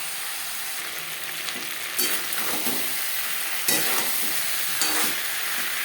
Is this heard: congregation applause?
no